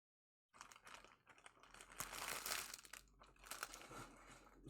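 Plastic packaging from a Universus trading card set crinkles close up in a steady, dense rustle lasting several seconds.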